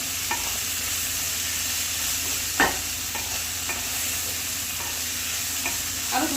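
Broccoli and onion stalks frying in oil in a pan, a steady close sizzle with a few soft stirring knocks scattered through.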